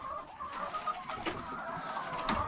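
Chickens clucking inside a poultry house on a Philippine egg farm, a dense flock chorus of overlapping clucks and calls, steady and close, with no voices.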